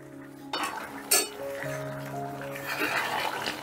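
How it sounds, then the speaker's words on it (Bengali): A metal lid comes off a cooking pot of pumpkin and potato curry with chana dal, giving a sharp clink and a brief clatter, followed by soft bubbling and a faint ringing tone in a quiet kitchen. "2 মিনিট বাদে ঢাকাটা তুলে নিলাম।"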